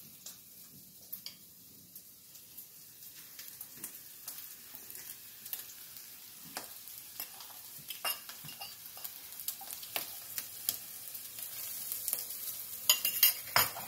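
Onions frying in oil in a pan, a soft continuous sizzle that slowly builds, with scattered crackles and occasional stirring clicks growing louder toward the end.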